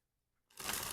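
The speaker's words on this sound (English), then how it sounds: "okay, one more shuffle." A deck of cards is shuffled, starting after near silence with a sudden close, dense riffle of crisp flutter that carries on to the end.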